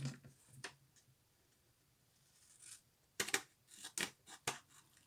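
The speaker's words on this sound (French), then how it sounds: "On va découper ces traits." Paper being cut with scissors along drawn lines up to a fold while making a simple box from a 15 by 15 cm sheet: a few faint early snips, then a quick run of sharp, close cuts near the end.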